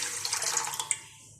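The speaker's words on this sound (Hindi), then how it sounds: "एक पैन के अंदर आप डालेंगे 2 से 3 गिलास पानी" Water poured from a glass into a pan while making grape sharbat, a short splashing pour that tapers off into a faint trickle.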